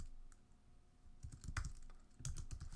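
Keys tapped on a computer keyboard while typing a code comment, a steady run of close, crisp clicks in irregular bursts that grow denser and louder toward the end, with no voices.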